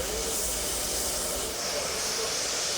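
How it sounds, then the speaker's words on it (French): The 241 P 17 steam locomotive gives off a steady, loud hiss of escaping steam that keeps going for the whole stretch, with no voices over it. "la 241 P17, désormais au timbre, peut enfin vraiment porter son titre de locomotive à vapeur la plus puissante d'Europe"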